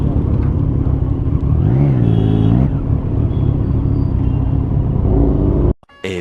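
Heavy city road traffic heard from a super bike, with loud rumbling engines and a rising, falling rev in the middle, ending in an abrupt break.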